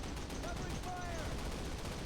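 Gunfire in the 2003 video game Call of Duty crackles as a dense burst of rapid shots with faint game voices mixed in, the whole battle sound steady and somewhat quiet.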